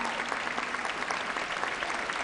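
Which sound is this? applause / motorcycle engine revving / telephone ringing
applause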